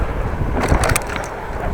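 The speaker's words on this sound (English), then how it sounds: "A little bit of wind, not that much, but there is wind." Wind buffets the microphone during a bike ride through a Dutch neighborhood, a steady rough rumble with brief gusty swells lasting under two seconds, no voices.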